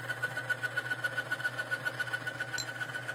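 A Timken bearing test machine runs on its electric motor, giving a steady, even hum with a fast regular pulsing whir that continues unbroken throughout.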